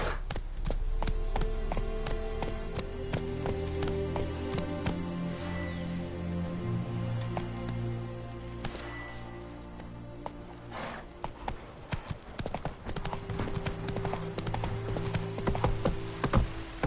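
Horse hooves galloping in The Witcher III on PS5, a rapid, loud clip-clop rhythm that runs throughout over a steady low game soundscape, with a brief whinny-like tone partway through and hoof beats turning choppier near the end.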